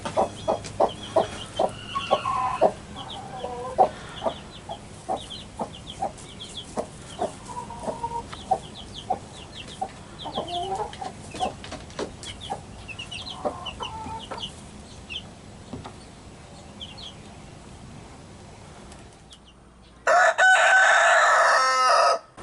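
A farmyard rooster in a flock with baby chicks clucks repeatedly in quick rhythmic bursts, then lets out one loud, close crow near the end.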